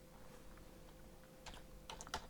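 Short bursts of keystrokes on a computer keyboard while entering a value in Fusion 360 CAD software, a few quick clustered taps near the end over a faint steady hum.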